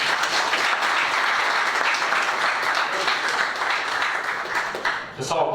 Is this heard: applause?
yes